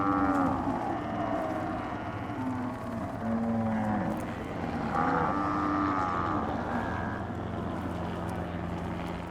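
Many cattle moo in overlapping calls during a roundup of about 2,000 head in the Kimberley outback. The lowing is steady and dense and stays fairly loud throughout, over a constant low engine-like drone, with no talk.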